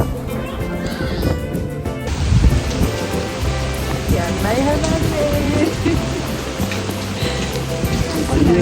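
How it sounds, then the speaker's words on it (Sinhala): Steady rain pours outdoors on a mountainside near a gondola station, with a rumble of thunder and continuous dense patter filling the background while people talk over it. "වහිනවා කරන්න දෙයක් නැහැ අපි."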